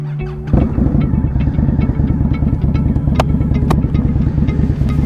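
An Indian Scout Bobber motorcycle rides along a road near Longleat Safari, its engine droning steadily and loudly in a continuous rumble with a rhythmic mid-range pulse, occasional sharp clicks and clatter over the top.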